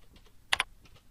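A number is typed on a computer keyboard, a brief cluster of two or three quick key clicks, close and clear against a quiet room with no talking.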